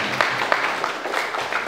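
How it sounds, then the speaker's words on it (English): Brief applause from an audience at a high school English debate final, a short, fairly faint spell of clapping for the two competing teams. "Let's again give applause."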